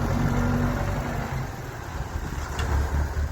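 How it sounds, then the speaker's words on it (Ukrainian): A tractor cultivating a field drives close by, its mid-pitched engine rumbling steadily and loudly nearby with dusty open-air noise. "Трактор ось їде, вже рядом."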